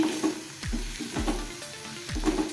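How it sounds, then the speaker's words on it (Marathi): Fresh turmeric is sautéed in ghee over a low flame with yogurt added, giving a soft frying sizzle with three evenly spaced scraping stir strokes. "सारखं आपण हे असं परतत राहायचं आहे मंद विस्तवावरतीच आपण हे असं परतून घेऊया"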